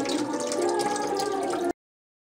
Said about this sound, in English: So I just scrape the bottom of the strainer, and you hear all that juice come out.